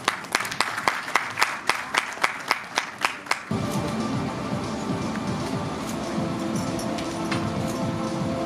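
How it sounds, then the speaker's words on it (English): Clapping from an audience at a regional-level school science exhibition, starting as a few loud, evenly spaced claps for about three seconds before swelling into dense, sustained crowd applause. "Big round of applause for them."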